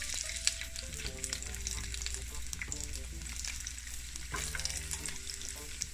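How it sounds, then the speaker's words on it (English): Ginger and garlic fry in a mix of canola and extra virgin olive oil for chicken chow mein, giving a steady close sizzle throughout with occasional stirring and faint background tones. "Now I'm gonna put my ginger and my garlic to burn."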